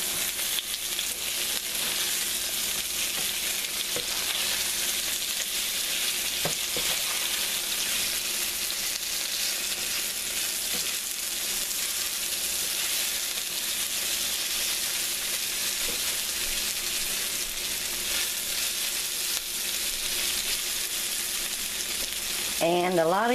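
Squash fries in oil in a pan, giving a loud, continuous close sizzle with a faint stirring rattle as the pieces are tossed, and a voice speaks briefly at the end.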